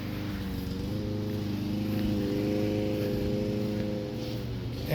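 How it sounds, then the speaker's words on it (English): A neighbor's lawn mower running in a back yard garden, a steady droning engine hum that holds continuously at moderate level with no talk. "My neighbors are mowing the yard"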